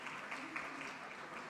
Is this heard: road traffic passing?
no